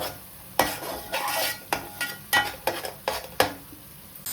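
Marinated fish pieces added to a hot frying pan for Ongole style fish curry, a series of sharp utensil clinks and scrapes over a low sizzle, close and without talk.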